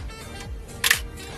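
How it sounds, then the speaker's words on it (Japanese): Minolta α9000 autofocus film SLR firing a blank shutter release with no film counter advanced, a single short mechanical snap standing out clearly over a low indoor hum. "カラシャッターしか切れない。"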